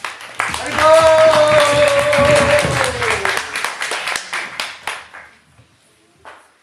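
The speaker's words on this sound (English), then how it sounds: "How about a round of applause for Lochananda Prabhu?" Audience applause at an ISKCON seminar, loud dense clapping from a crowd that swells quickly then gradually thins and fades out, with some voices and a sustained tone heard early on.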